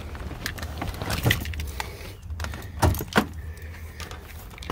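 Keys jingle and clatter as they are pulled from the ignition of a 1999-2004 Ford F250 7.3L truck. A few close, bright metallic jangles and clicks stand out over a low, steady background hum.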